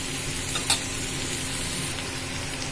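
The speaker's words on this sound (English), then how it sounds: "Put the potatoes down and spread it out and allow the potatoes to cook now." Potatoes cooking on low flame in a pan for an Indian-style bitter gourd dish, a continuous close sizzle with a brief scrape as they are stirred and spread.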